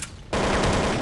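AK rifle fire in Counter-Strike: Condition Zero, a quiet lead-in and then a loud, rapid automatic burst of close gunshots that runs to the end.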